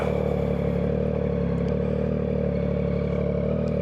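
A car engine drones steadily as the car drives and shifts into second gear, with the check engine light on; a loud, constant mid-pitched hum with light clatter and no voices.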